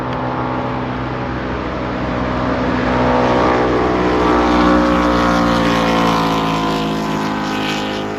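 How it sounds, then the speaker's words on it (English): Southern 80 race boats practicing on the Murray River at Echuca, a loud continuous engine roar with strong low harmonic drone that builds slightly as a boat passes near, with no talk over it. "So the Southern 80 boats of all classes were coming out throughout the day, just practicing up and down the river."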